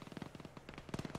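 Bursts of automatic gunfire in the military shooter Arma, rapid cracks in quick clusters with a brief pause between, fairly distant and faint.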